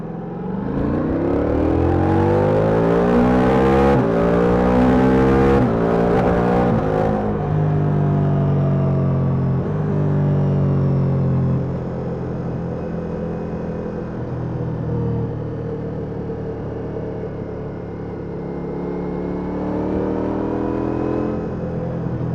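A Ducati Multistrada V4S motorcycle with a V4 engine is ridden on the road. Its engine revs hard and climbs through the gears, then settles into a steady droning cruise, loud and close, with no talking.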